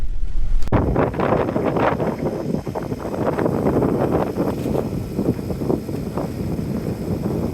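Strong wind buffets the microphone in a steady, loud roar aboard a sailboat coming into port, with a low rumble underneath throughout.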